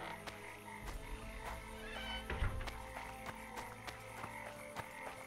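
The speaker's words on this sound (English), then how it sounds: "There's a very loud bunch of frogs." A large chorus of frogs croaking at night in The Witcher 2 video game, dense overlapping rhythmic croaks forming a loud continuous bed with occasional sharper calls, and no talk over it.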